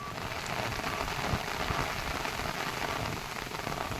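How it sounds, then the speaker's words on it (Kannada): Continuous monsoon rain in Karnataka falls on a hard surface, a steady, even patter with no voices or other sounds. "ಆದರೆ ಮಳೆ ಮುಂದುವರಿತಾ ಇದೆ"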